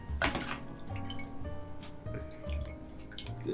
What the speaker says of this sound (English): You almost poured that on my phone.